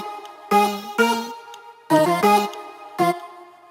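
A lead built from short chopped female vocal samples, layered with a bassier copy and triggered by MIDI, plays a few clipped, pitched syllable bursts in a choppy rhythm separated by gaps, dry and alone.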